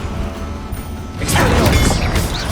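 Confringo fire spell blasting in Hogwarts Legacy: a sudden loud crashing burst erupts midway over a steady low rumble, then sustains as a broad roaring wash with crackling debris.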